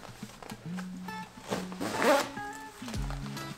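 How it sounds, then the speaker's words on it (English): A short zipper pull rasps up a pair of Sitka Incinerator Aerolite bib overalls close by, with a few soft fabric rustles around it. "And go ahead and get these zipped up here."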